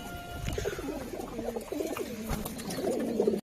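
Pigeons coo in low, throaty, rolling calls, repeated steadily and fairly close, over a faint outdoor background with no speech.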